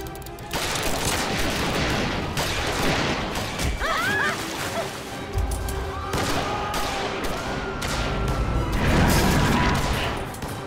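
Dense film shootout gunfire, rapid overlapping shots and bursts crashing over a loud action soundtrack, with brief shouting and other battle noise mixed in throughout.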